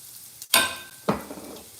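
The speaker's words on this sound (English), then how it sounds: "Okay, we're gonna add our onions." Onions drop into a hot pot for white chicken chili and give two sudden, loud bursts of sizzling that fade into a steady crackle.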